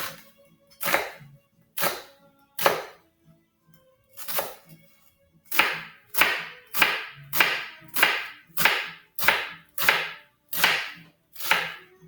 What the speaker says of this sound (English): my next step is to chop my onion